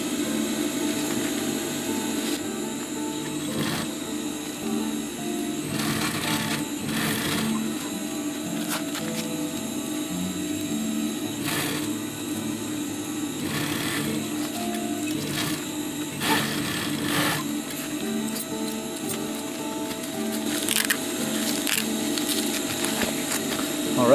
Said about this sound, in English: start sewing it in